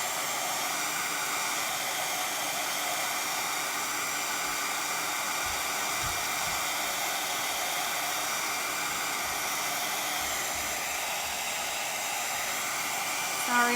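A hair dryer blows steadily on chalk paint on Christmas decor, a constant close whooshing roar that holds unbroken throughout.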